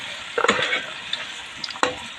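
A spoon stirs sugar melting in a pan for Filipino banana cue, cooked at a farm: soft scraping strokes over a light sizzle, with one sharp clack of utensil on pan near the end, no talking.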